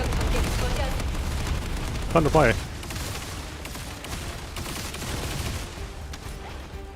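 Gunfire and booming chain-reaction blasts from a sniper in the shooter game The First Descendant, a dense rumbling barrage with one sharp burst near the middle, under someone talking.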